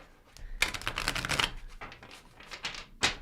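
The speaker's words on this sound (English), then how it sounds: "we are going to take one good shuffle here" A tarot card deck gets a brisk riffle shuffle: rapid, close flutters of cards snapping through in bursts, with a short pause before a final quick riffle.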